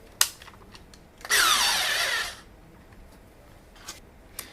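A NoCry electric screwdriver whirs for about a second as it drives a screw, its motor pitch dropping under load, preceded and followed by a few sharp clicks.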